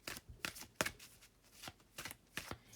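A deck of angel therapy cards is shuffled close by, a quick series of soft riffling flutters and slaps in an uneven rhythm, quiet and with no voices.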